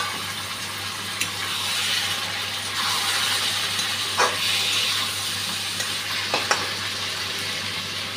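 Moka (Moloya) fish going into hot oil in a pan, giving a continuous moderate sizzle with a low steady hum underneath and a few sharp clicks and scrapes, no voices.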